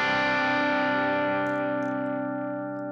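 Electric guitar played through a Fractal FM3 MKII Turbo with drive and tone turned down, a single sustained distorted chord ringing out and slowly fading over three seconds.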